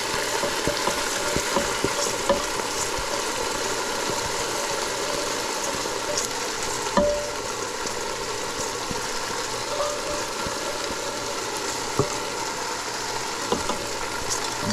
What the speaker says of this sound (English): So we will now add the rice.